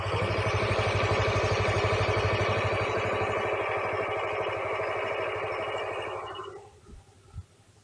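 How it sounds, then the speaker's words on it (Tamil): A Hero Destini 125 scooter engine idles with a steady, smooth low hum and even mechanical texture close by, then cuts off abruptly near the end, leaving a couple of faint clicks in near silence. "இன்ஜின் எவ்வளோ ஸ்மூத்தாக இருக்குன்னு பாருங்க."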